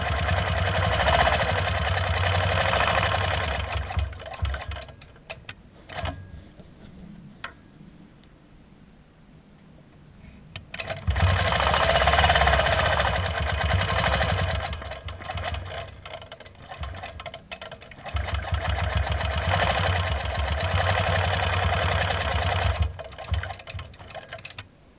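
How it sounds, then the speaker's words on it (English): A sewing machine stitches a quilt guided by a Taj ruler, running in rapid steady bursts with a pause between runs, close and fairly loud with no talk. "I continue to stitch this with that slight overlapping of my stitches"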